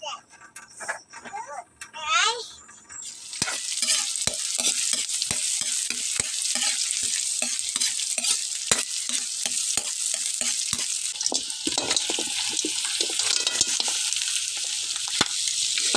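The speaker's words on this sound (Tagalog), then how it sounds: "Igisa muna natin itong mga bawang to at saka luya." Garlic and ginger sautéing in a hot pan for a home-cooked coconut-milk chicken dish, a loud steady sizzle with frequent stirring clicks and scrapes, preceded by a brief spoken moment.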